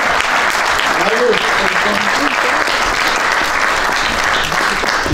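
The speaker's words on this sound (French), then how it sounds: "Je vous demande d'applaudir Black Dandy." A live audience applauds Black Dandy at a film debate, a loud, dense, sustained clapping that fills the room from start to finish with no break.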